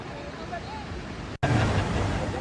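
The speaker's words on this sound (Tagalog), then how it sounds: "Rinig ang lakas ng ragasan ng tubig." Floodwater from the overflowing Santo Cristo Dam in Lubao, Pampanga, blocked by fallen trees and water lilies, rushes past in a loud, steady roar with a brief dropout midway, while voices talk over it.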